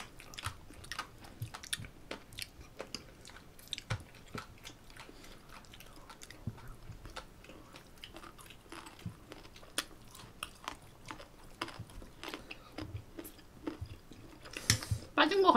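Someone chews bossam with salted shrimp up close, a run of wet crunching bites and mastication over about fifteen seconds, with light speech around it.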